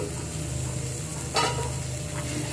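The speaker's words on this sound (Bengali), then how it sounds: "দিয়ে মশলার সাথে মটরশুঁটি ভালো করে কষিয়ে নেব" Green peas being sautéed with spice paste in a pan, a steady close sizzle with stirring scrapes and a brief louder clatter midway.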